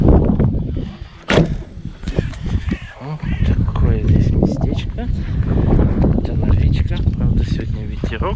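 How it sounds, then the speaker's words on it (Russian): Wind at a river mouth on a fishing outing buffets the microphone in rough, low gusts, mostly masked by someone talking close up throughout. "А здесь прям ветер."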